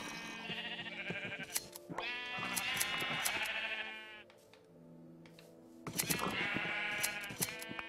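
Sheep bleating in Minecraft: several drawn-out, wavering bleats close by, with a short quieter gap between them.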